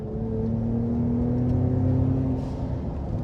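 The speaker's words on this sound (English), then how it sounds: "it comes up to 6K and the blow off sound goes off" Ford Raptor engine revving steadily upward, a strong close mechanical drone climbing in pitch, with a brief hissy rush near the end like a blow-off valve release.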